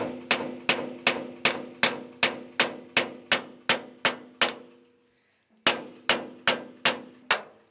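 A hammer strikes metal in a steady rhythm, about a dozen ringing clangs, a short pause, then five more evenly spaced blows.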